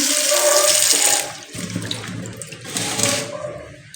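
Tap water runs loudly into a kitchen sink as food is rinsed under it, a steady gushing stream that briefly dips in force partway through before surging again.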